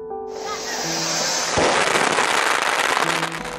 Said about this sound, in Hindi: पटाखों और फुलझड़ियों की रोशनी